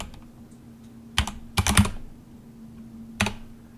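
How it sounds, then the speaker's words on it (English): A few quick keystrokes on a computer keyboard typing a file name in a Linux terminal, clustered clicks near the middle and one last tap after a pause, close and clear with no talking. "you can just type the second file name like this"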